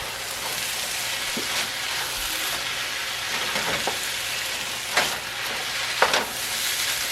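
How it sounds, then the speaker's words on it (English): Egg fried rice with peas and carrots sizzles steadily in a pan under a broad frying hiss, with a few sharper utensil scrapes and clinks near the end as the ingredients are stirred together. "so that way they can go ahead and incorporate with the rice and finish cooking as we stir in the peas and carrots"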